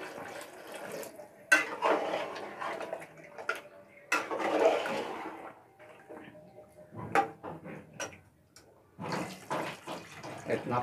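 Water is poured into a pan of fish curry masala, bursts of splashing and trickling separated by short pauses, with scraping of a spoon or pan in between.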